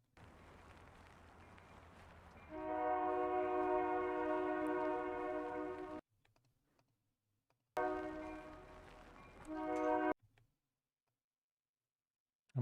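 A train passing in a city, heard as a loud, steady tonal horn-like drone with strong harmonics sounding over a rumbling background, cutting off abruptly, then returning briefly before stopping again, with no talk.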